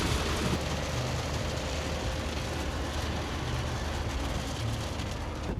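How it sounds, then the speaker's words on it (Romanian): Steady, dense rain drums on the roof of a motorhome parked in Bucharest, a constant close hiss with a low rumble underneath and no voices. "cum plouă."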